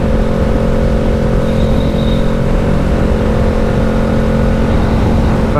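Steady drone of a vehicle engine cruising along a tollway freeway early in the morning, with a constant low hum and road rumble throughout and no talking.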